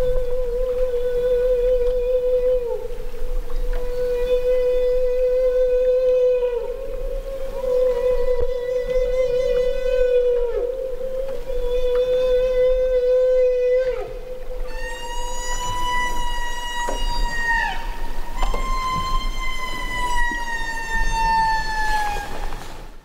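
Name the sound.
humpback whale feeding calls, high-pitched wailing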